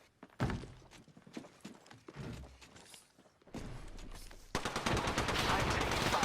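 Gunfire in Apex Legends cracks in sharp bursts of shots, sparse at first then building into dense rapid automatic fire near the end, loud and close with game sounds between.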